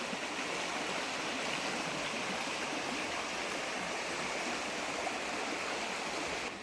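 A river flowing through woods makes a steady, broad rushing and gurgling wash of water, even and close throughout with no talk.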